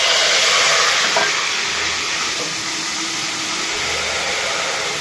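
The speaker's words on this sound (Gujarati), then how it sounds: "તો ચાલો તેનો સરસ રીતે વઘાર પણ કરી લઈએ।" Spices are tempered in hot oil for a green pigeon pea kadhi made with tomatoes and dried onions, giving a loud, steady, broad sizzling hiss that holds evenly from start to finish with no talking.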